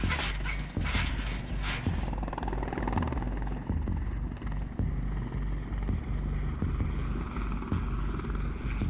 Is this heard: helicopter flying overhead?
yes